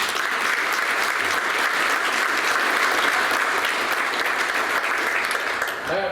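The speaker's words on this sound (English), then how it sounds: "he deserves a round of applause" Sustained, dense applause from a large audience at a sports hall of fame induction luncheon, steady clapping throughout that begins to fade at the very end.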